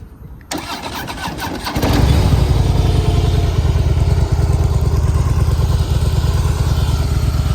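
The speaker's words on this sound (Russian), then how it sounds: "Так мотоцикл звучит на штатном выхлопе." A Harley-Davidson motorcycle engine with stock exhaust cranks and starts, then settles into a loud, steady idle with a low, throbbing exhaust rumble close by.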